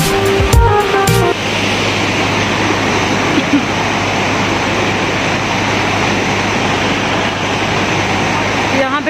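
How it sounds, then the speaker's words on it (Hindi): Fast-flowing river water rushes in a loud, constant roar near the mountain route from Batakundi to Babusar Top, with a brief clatter at the start. "पानी की जो रफ्तार है बहुत ही ज़्यादा तेज़ है"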